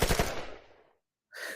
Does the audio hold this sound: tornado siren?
no